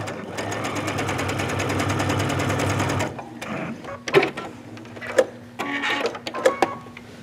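A sewing machine fitted with a walking foot stitches through a quilted jacket in a fast, steady mechanical run for about three seconds, then falls quiet apart from scattered handling clicks and fabric rustling.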